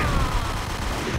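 Gunfire from the video game Max Payne, a dense, loud burst of shots that blurs into a continuous roar for about a second with no pauses.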